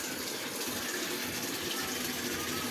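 Steady rushing water pours continuously through the inlet valve into a Panasonic inverter washing machine, a broadband hiss with no pauses, close and fairly loud.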